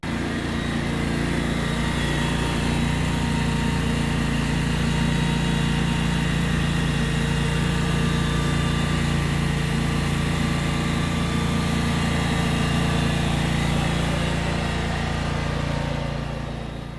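A lawnmower engine drones steadily and loudly close by, an unbroken, even roar with no talking over it.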